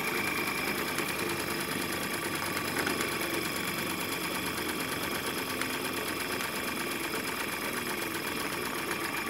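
Jensen 55G model steam engine driving a modified generator that lights an LED bulb, a steady, fast mechanical clatter and whir running unbroken throughout at moderate, close level.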